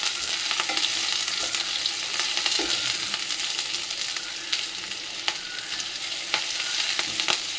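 Curry leaves fry in hot oil in a pan for kanda poha, giving a close, continuous sizzle and crackle with scattered sharper pops and stirring scrapes.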